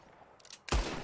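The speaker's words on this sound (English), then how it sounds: "Just draw your gun and aim when you're ready, all right? Shoot!" A single loud gunshot cracks out after a moment of quiet room tone during a bottle-shooting contest in the video game Red Dead Redemption 2, followed by a short ringing decay.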